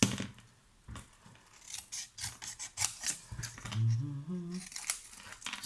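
Scissors snipping through a 6-inch square of patterned craft paper at close range, a series of quiet crisp cuts and rustles with a brief rubbing sound midway.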